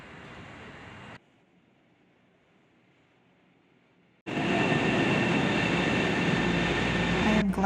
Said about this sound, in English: I catch 2 local trains that take me to the Amtrak station